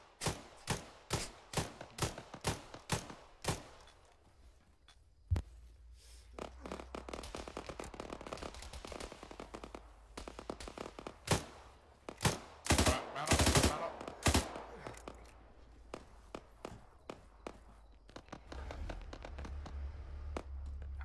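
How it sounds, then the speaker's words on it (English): Suppressing gunfire in the video game ArmA 3 opens with a rapid string of distinct single shots. Denser, rougher bursts of fire and crackling follow, then fade into quieter rumbling at the end. "Keep up suppressing fire for now."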